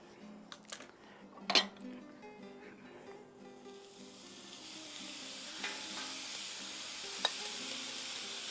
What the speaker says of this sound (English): We're going to throw in our meat.